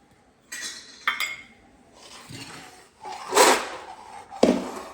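A utensil stirs cardamom powder into sugar syrup in a pan for mohanthal, making a few sharp metallic clinks and soft scrapes spaced irregularly, with quiet gaps between them.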